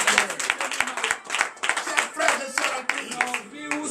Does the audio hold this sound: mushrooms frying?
no